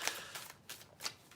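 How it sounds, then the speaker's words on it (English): A deck of cards being shuffled at a table, several short soft riffling bursts in quick succession, close and quiet. "Now it's nice and shuffled."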